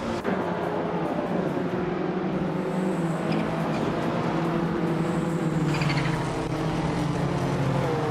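Engine of a classic 1984 Renault 5 Turbo race car at the start of a race, a steady, droning roar with a sustained tonal hum and no pauses throughout.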